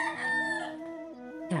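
A rooster crows a single drawn-out cock-a-doodle-doo, loud and close, while backyard chickens are fed rice, with faint clucking at the tail end.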